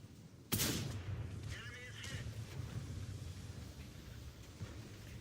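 A tank cannon fires in the General Tactics video game. One loud, close blast comes early, followed by rumbling, windy battlefield ambience with faint voice-like sounds and a few smaller thuds.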